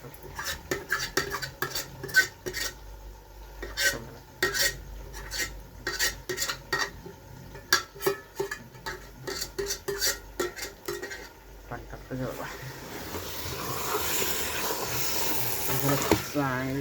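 A non-veg dish frying in a pan at an outdoor cooking party, with repeated rhythmic metal spoon scrapes and clanks against the pan over a continuous sizzle that grows into a loud hiss near the end.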